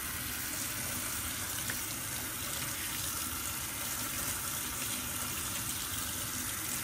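Tap water runs steadily into a sink for hand rinsing, a constant broadband hiss at moderate distance, with no voices.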